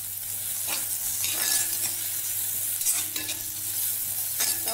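Chopped onion and garlic sautéing in hot oil for a chutney, a steady close sizzle broken by several scraping stirs of a spatula in the pan.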